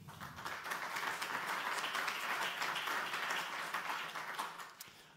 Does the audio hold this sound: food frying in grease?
no